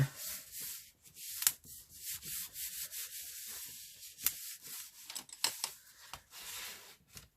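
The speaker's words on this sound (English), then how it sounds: "Let's give that burnish down, like so." Material is burnished down by hand rubbing, giving close, uneven scratchy strokes in quick irregular bursts with brief pauses between them.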